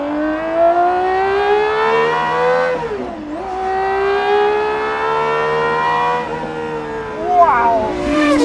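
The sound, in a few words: GMA T.50 engine revving as throttle is opened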